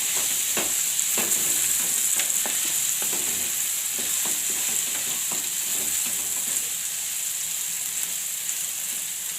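Sesame seeds and other ingredients stirred in hot oil in a pan for a valor bean curry, a constant sizzle with repeated scraping strokes of a spoon, close and without speech.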